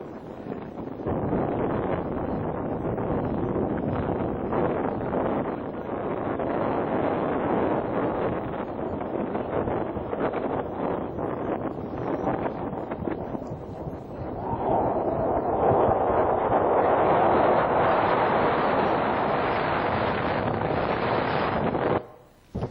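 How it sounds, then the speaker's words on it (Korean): Strong desert wind roars and buffets the microphone continuously, growing even louder in the second half before cutting off abruptly. "얼마나 바람 소리가 큽니까?"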